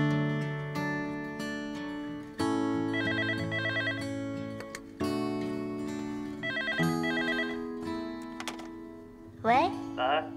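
A telephone ringing in repeated electronic trilling bursts against a bed of music, with a clear pause between rings, moderately loud and close.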